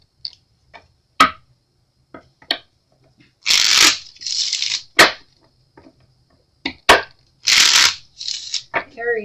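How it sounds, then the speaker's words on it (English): Tarot cards being riffled and shuffled in several bursts, with crisp flicks and taps between them, close and fairly loud; no talking. "I always like to shuffle on camera"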